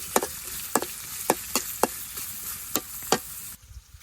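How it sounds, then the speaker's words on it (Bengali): Chopped onion, green chilli and whole cumin seeds fry in oil in a wok while a spatula scrapes through them in steady strokes, roughly every half second, over a continuous sizzle that stops abruptly near the end. "পেঁয়াজ কাঁচামরিচটা ভালোভাবে ভেজে নিই।"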